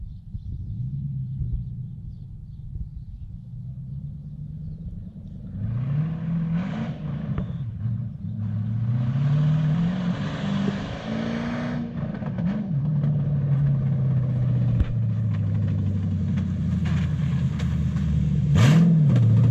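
A 2007 black Toyota Hilux Vigo 4x4 with a swapped 3UZ V8 and manual gearbox pulls away, its deep engine rumble rising and falling through gear changes, revving up loud and close with a low steady drone between pulls.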